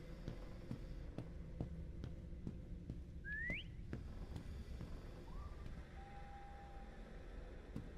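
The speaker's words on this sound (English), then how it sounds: "Someone whistled." A short rising whistle sounds in the horror video game Lost Luminosity, followed later by a softer, sustained whistled tone over quiet ambient noise and faint ticks.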